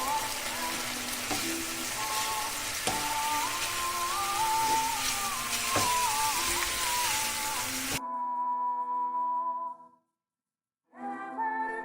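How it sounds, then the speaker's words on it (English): Ground almonds and saffron sauté in a pan with a steady, crackling sizzle for several seconds, then the sizzle drops off sharply, leaving a brief faint tonal hum with a silent gap before it returns. "And we're going to continue to saute this for just a little bit."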